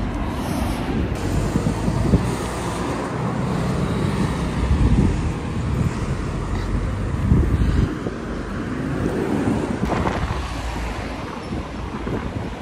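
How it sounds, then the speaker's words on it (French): Steady roar of strong storm wind buffeting the microphone on a bridge, with gusts swelling and easing over passing truck traffic rumble; no voices. "aujourd'hui, il y a tempête de vent."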